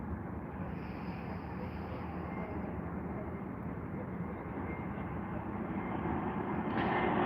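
A Lufthansa airliner in new livery lands at Heathrow with a broad, steady jet roar that swells slightly toward the end. Someone talks over the noise.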